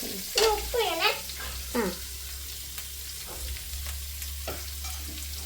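Soybean roast sizzles gently in a pan as it is stirred, with soft scraping strokes over a low steady hum, and a voice talking briefly near the start.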